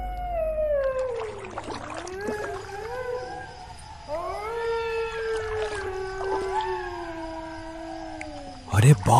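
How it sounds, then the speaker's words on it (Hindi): Jackals howl in a dark, eerie night setting in a horror cartoon, long wavering cries rising and falling one after another under a person talking, ending in a louder burst. "ये सियार कितनी डरावनी आवाज में चिल्ला रहे हैं"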